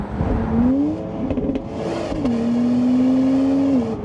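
A BMW X3 M50's B58 straight-six engine rumbles and revs nearby, its droning tone rising and holding steady, steady and fairly loud with no talking.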